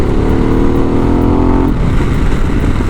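A Harley-Davidson Pan America fitted with a Vance and Hines exhaust rumbles loudly and steadily on the road, its engine note rising in a harmonic pull before settling into a rougher, lower drone.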